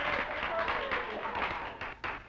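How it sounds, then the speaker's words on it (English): Dense classroom applause from a group of students in a 1961 school setting, a continuous moderate patter of clapping that thins toward the end. "Let's hear a little applause for George."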